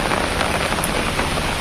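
Rain falls steadily on a surface in monsoon weather, a dense, even hiss of drops that is close and fairly loud, with no talking.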